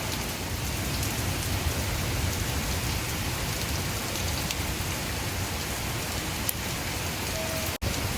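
Heavy rain pours down in a dense, constant hiss and patter, loud and unbroken throughout, with no voices.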